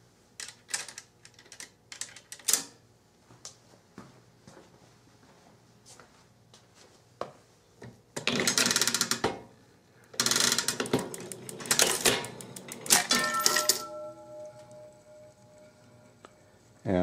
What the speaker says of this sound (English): So I'll go ahead and cycle the machine.